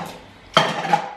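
A small oven-safe bowl set down with a single sharp clink on a kitchen counter, close and clear after a quiet moment, with a faint ringing tail.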